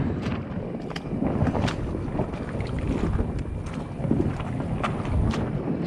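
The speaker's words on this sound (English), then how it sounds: "it's a lot easier to pull your boat with a rope than it is to grab them handles and drag it" A continuous scraping, grinding rumble as a boat is pulled by rope over gravel and shallow water in a clear creek, with occasional sharper knocks and some wind noise.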